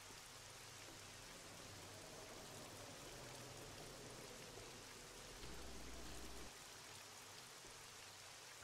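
Light rain drizzling onto a road in the video game 7 Days To Die, a faint, steady hiss of fine drops with no voices, constant and soft from start to end.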